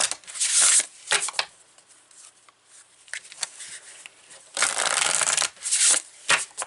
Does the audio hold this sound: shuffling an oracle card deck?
yes